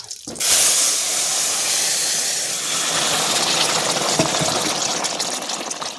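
Hot oil tempered with radhuni seeds and a dried red chili erupts into a loud, steady hiss as curry is poured in for a Bengali prawn and muskmelon dish, sizzling close and unbroken with no talk.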